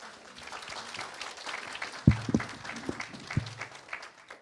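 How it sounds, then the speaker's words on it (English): Applause from the audience at a teacher-of-the-year award gala, moderate scattered clapping with a few sharper thuds and knocks near the middle, fairly steady throughout. "Another round of applause, Ms. Silva."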